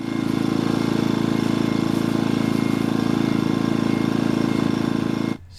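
A Wen 56200i 2000W inverter generator engine runs steadily at close range with a loud, even drone, then cuts off abruptly just before the end.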